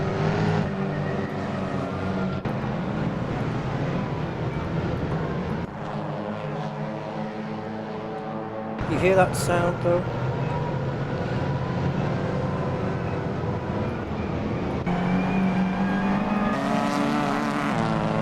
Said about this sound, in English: Listen to the exhaust there, that exhaust note.